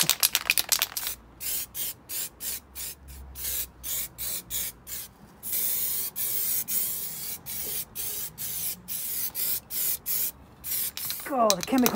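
Anti-gravel coating is sprayed from an aerosol can onto a car wing in short, hissing bursts separated by brief pauses, close and steady, with faint rattling and no talk.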